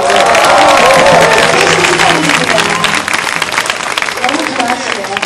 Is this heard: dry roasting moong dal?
no